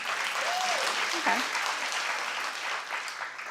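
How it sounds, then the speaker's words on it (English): Scattered, fairly quiet clapping from a few members of a talk-show studio audience, with a brief spoken word partway through. "Clap if you have."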